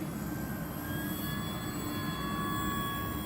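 An E-flite T-28B Trojan 1.2m electric RC airplane flies at roughly half throttle, its steady motor whine and prop drone holding constant and moderately loud against outdoor background noise, with no talking.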